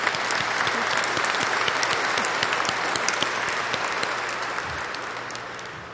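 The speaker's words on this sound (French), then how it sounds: "On les applaudit aussi." A church congregation at a French-language mass claps warmly in a steady, sustained wash of applause that slowly fades toward the end, with no voices over it.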